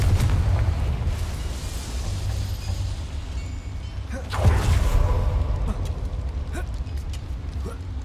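A Confringo blasting spell explodes in the video game Hogwarts Legacy, one loud burst rising out of a steady low rumbling background partway through, followed by a few fainter crackles.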